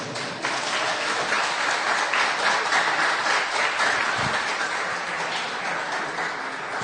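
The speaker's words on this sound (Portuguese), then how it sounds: "Se você crer, dê um aplauso a Jesus." A church congregation applauds for Jesus during a Portuguese-language sermon, steady dense clapping from a large crowd sustained for about seven seconds, fairly even in loudness.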